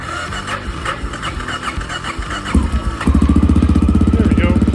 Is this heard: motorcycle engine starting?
yes